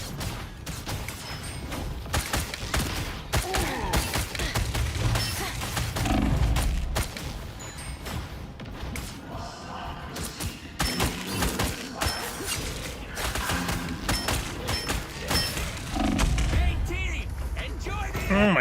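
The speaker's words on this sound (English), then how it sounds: "Definitely shooting through people right now." Dense, continuous gunfire and explosive booms from a hectic Marvel Rivals match during a vehicle-escort objective, with rapid shots and thumps layered throughout under a talking player's voice.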